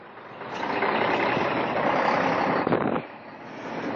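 A van-type truck engine rumbles close by, a steady loud drone that swells and then drops off sharply near the end, with no talk.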